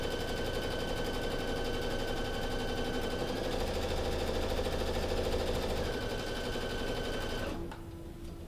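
An embroidery machine stitches a tack-down stitch for applique, running as a loud, steady, fast needle rattle with a continuous mechanical hum that stops abruptly near the end, with no talk.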